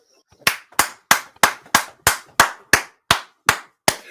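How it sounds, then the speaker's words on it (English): A single person claps hands in a steady, even rhythm, about a dozen sharp, close claps at a brisk pace, with no talking during the sequence. "He clapped again"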